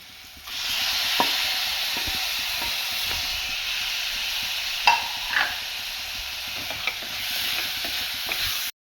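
Tomatoes go into a hot pan for red sauce pasta, a steady close sizzle and hiss broken by a few sharp drops and clinks, with no one talking.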